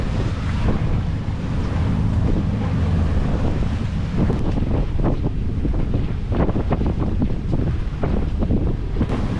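Strong wind roars across a sailboat at sea on the way from Porto Vecchio toward Sardinia, with a steady loud gusting rush, water splashing against the hull and intermittent knocks, and no voices.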